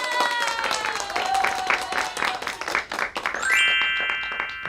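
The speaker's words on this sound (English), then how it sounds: "I hit the clap button" A sound-effect burst of clapping from a clap button during a fitness podcast: a dense flurry of quick claps mixed with bright tonal chimes, steady and fairly loud for a few seconds, with no talking.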